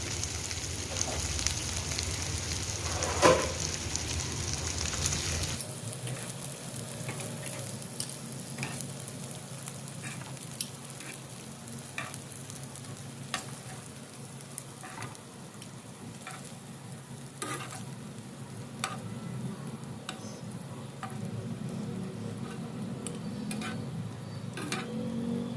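Minced meat kebabs fry in hot oil on a stove, a steady crackling sizzle with scattered pops; a louder clatter at the start gives way to quieter continuous frying, no voices.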